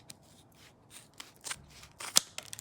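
Blade cutting open plastic packaging holding silver Franklin half dollars, a few soft snips and crinkling rustles, with one sharper cut near the end, quiet and close.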